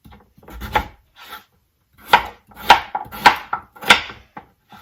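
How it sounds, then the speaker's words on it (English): Knife rough-chopping sweet potatoes into half-inch slices on a board, a series of distinct close chops, roughly one every half second, with scraping rasps between and brief pauses. "We're going to chop these sweet potatoes, just kind of a rough chop, maybe half-inch"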